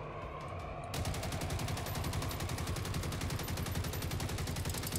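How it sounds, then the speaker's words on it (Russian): Rapid, sustained machine-gun fire in the Generation Zero video game, a gun shooting sniper-rifle rounds, starts after a quieter second and hammers on in a dense, loud, steady rhythm to the end. "По-моему, это пулемет, который лупит боеприпасами от снайперской винтовки"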